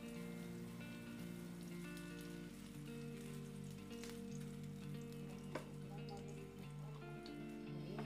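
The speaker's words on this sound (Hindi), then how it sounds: "अब इसके ऊपर घी लगाकर और इसे सुरख होने तक अच्छे तरीके से सेकेंगे दोनों साइड से" A stuffed potato paratha roasts in ghee on a pan, giving an even, continuous sizzle with light crackles, set under a steady background hum and tone.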